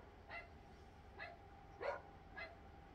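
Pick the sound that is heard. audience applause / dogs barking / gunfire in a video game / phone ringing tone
dogs barking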